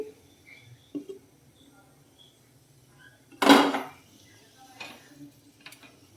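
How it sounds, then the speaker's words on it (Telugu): A metal lid set down onto a cooking pot of tamarind fish curry gives one sharp clatter that rings briefly, followed by a few lighter clinks nearby in an otherwise quiet kitchen. "మూత పెట్టుకుందాం ఒకసారి చూద్దామండి"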